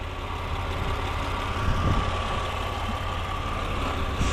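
A 2006 Saab 9-3 Aero SportCombi V6 turbo engine idles nearby with a steady, even low rumble and faint hum, no speech over it.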